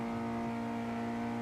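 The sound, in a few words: loud car engine in a video game (RedM roleplay)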